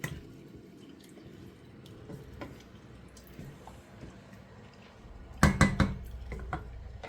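Rice pilaf stirred in a pot with a spoon, quiet scraping and wet shuffling close by, ending in a short burst of louder clinks against the pot.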